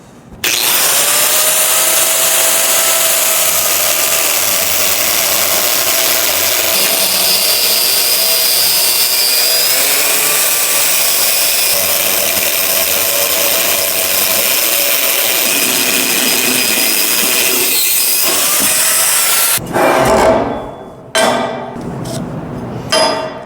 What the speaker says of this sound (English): we have been using a cutoff wheel on a grinder for all our cuts